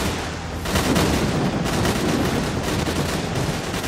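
Weapon fire in S.T.A.L.K.E.R.: Clear Sky from a gun using the Gauss rifle skin: a dense, loud, continuous burst of booming, crackling blasts with no talk over it.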